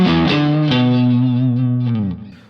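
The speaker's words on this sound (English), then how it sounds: "Sounds like a Strat with like an EL34-esque amp on." Stratocaster-style electric guitar played through an EL34-style amp profile on a Kemper, with a few picked notes and then a sustained chord ringing with chorus-like shimmer before fading out.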